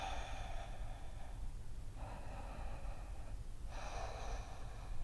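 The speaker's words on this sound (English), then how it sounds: "Take 3 breaths here." Deep breathing during a yoga session, three slow, audible breaths close to the microphone, each a soft airy rush lasting about a second and a half, with quiet gaps between and no talking.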